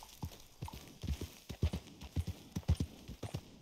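Horse hooves clip-clop in the video game Red Dead Redemption 2, a quick, uneven run of close, crisp hoofbeats with no talking.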